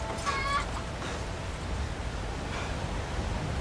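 A chicken in a video game clucks in a few short bursts over a steady, noisy outdoor background of wind and rumble, faint and partly masked, with no speech.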